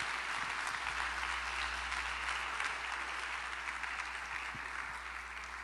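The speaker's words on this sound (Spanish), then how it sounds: "démosle un aplauso al Señor y así comenzamos" Sustained applause from a church congregation before a Bible study on Galatians, steady and moderately loud with a low hum underneath throughout.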